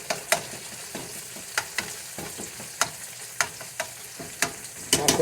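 Noodles for fried pork noodles fry in a pan with a steady sizzle, punctuated by repeated sharp scrapes and clacks of stirring and separating, close and continuous with no talking.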